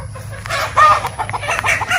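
Bresse-Darag cross hens cluck softly in short, irregular bursts nearby, with a low background hum throughout.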